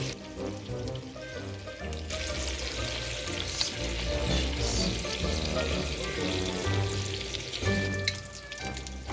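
Sweet Italian sausage frying in a skillet that just held meatballs, a steady close sizzle with occasional stirring scrapes, loud and continuous without talk.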